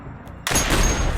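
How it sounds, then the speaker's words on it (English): A single sharp gunshot goes off abruptly partway through, loud and close, bursting in from near silence and leaving a dense, rumbling wash that carries on to the end. Set in a Metal Gear Solid graphic novel. "You shot her!"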